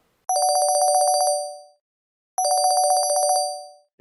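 A phone ringing for an incoming call, two loud, clear electronic ringtone bursts of rapid trilling beeps, each about a second and a half long with a short silent gap between them.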